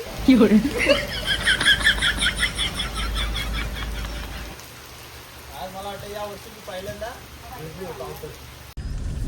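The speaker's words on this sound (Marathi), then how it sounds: "आणि आता आलेला आहे जोर असा पाऊस" Steady hiss of heavy rain pouring down, with people talking and laughing close by; the downpour fades into quieter speech partway through.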